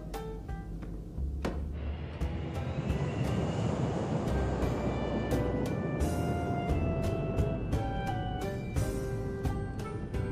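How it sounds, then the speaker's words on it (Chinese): Steady engine rumble fills the cabin of an airliner about to take off, a continuous loud drone running throughout, with a faint musical tone layered over it. "女士们、先生们，飞机即将起飞，请大家系好安全带"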